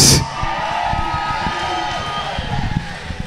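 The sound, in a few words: crowd cheering for roller derby teams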